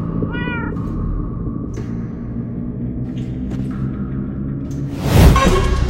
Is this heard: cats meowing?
yes